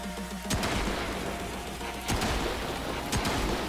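Sharp sniper rifle shots from the Rubico in the video game Warframe, three spaced reports over a steady low game-ambience hum, each loud crack trailing off briefly.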